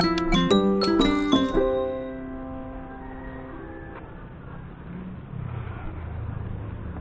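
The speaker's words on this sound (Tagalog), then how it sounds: "Doorbell tayo." A doorbell at a warehouse chimes several bright ding-dong tones in quick succession, ringing loud and close before decaying into a low engine-like rumble and background noise.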